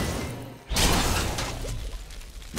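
A trap shatters in the Diablo 3 video game, a sudden bright crash bursting in after a brief lull and then trailing off into a rushing, fading wash of debris.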